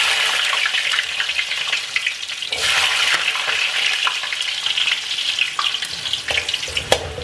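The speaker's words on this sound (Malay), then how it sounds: "Kemudian kita goreng pula bawang putih." Garlic frying in hot oil makes a loud, continuous close-up sizzle with bursts of crackling and stirring, no voices.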